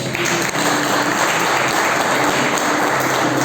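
Loud, sustained applause from a church congregation, dense and steady clapping filling the whole moment.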